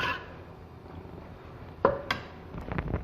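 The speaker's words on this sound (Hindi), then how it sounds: "इसे मिक्स कर लेंगे दाल को।" A spoon scrapes and clinks against a cooking pot while lemon juice is stirred into simmering urad daal, with a sharp knock and a few quick metallic scrapes near the end, close and without speech.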